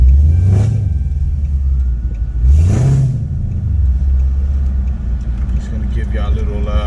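Dodge Durango R/T with OBX long tube headers, a mid muffler delete and an X pipe, recorded with the rear hatch open: a deep, loud exhaust rumble swells in two sharp revs over a steady idle drone.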